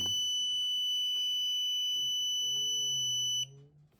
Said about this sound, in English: so that just triggered the alarm